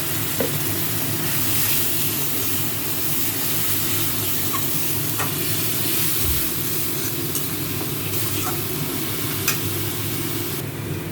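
Koi fish frying in hot oil with turmeric added: a steady, close sizzle and hiss continues throughout, with small crackles and a soft stirring thump, no voices.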